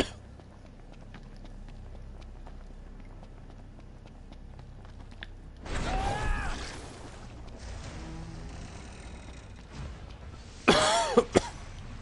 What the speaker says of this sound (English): Hello, coughing fit.